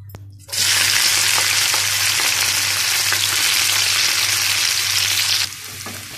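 Garlic cloves, tamarind and cumin seeds hit hot oil with a sudden loud hiss that holds as a steady, bright crackling sizzle, then drops sharply to a quieter fry at the close.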